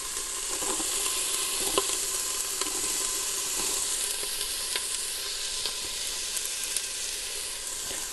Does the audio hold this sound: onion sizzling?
yes